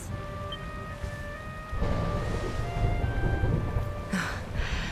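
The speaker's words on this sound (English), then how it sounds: "Would you look at it thundering away out there?" Thunder and steady rain from the Dragon Quest XI game at Dundrasil Castle, with a continuous rain wash that swells as a low rumble rolls in, over a faint sustained musical tone.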